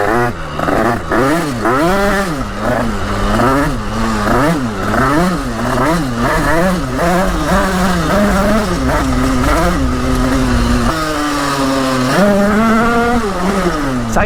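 A badly tuned motorcycle, loud and close, revs hard and accelerates while riding a wheelie, its engine note climbing and dropping in repeated surges before one long rising pull near the end.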